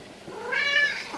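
A single drawn-out meow from a cat, close and fairly loud, rising in the middle and tailing off, with no voices over it.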